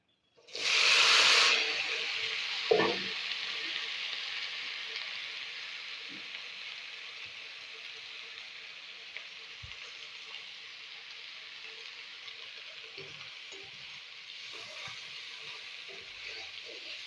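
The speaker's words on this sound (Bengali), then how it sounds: "এটা ভালো করে ভাজা হোক" Chopped spring onions hit hot oil in a pan with a loud burst of sizzling, then settle into a quieter, steady frying hiss that continues faintly for a long stretch, with occasional small clicks.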